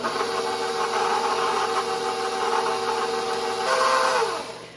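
Stand mixer with a paddle attachment mixing bread dough for bread bowls, a loud, steady motor whir that runs continuously, then winds down at the end, with no voices.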